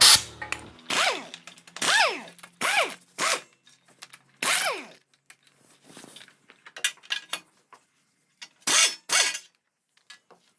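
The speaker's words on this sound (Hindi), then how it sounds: "अब हम जल्दी से इसका जो जितने भी 8 नंबर के नट है वो खोल देते हैं" A ratchet wrench loosening 8 mm nuts on the clutch cover of a Hero HF Deluxe BS6 motorcycle, heard as repeated short bursts of rasping ratchet clicks separated by brief pauses, close and fairly loud.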